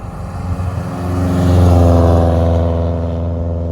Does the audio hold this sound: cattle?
no